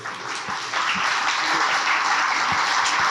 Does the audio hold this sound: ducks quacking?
no